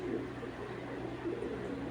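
An army pigeon in a breeding cage gives soft, low, continuous cooing, steady and close over a constant low hum, with no talking.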